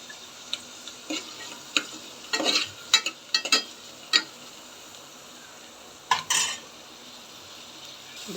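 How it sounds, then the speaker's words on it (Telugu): Carrots being stirred into a pan for oats khichdi, with a low, steady frying sizzle underneath and a scattered series of scraping and clinking spoon-against-pan strokes, close up and with no voices. "ఇప్పుడు క్యారెట్ వేద్దాం."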